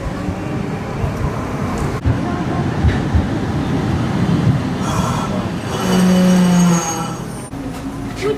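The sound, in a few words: Nagasaki street tram running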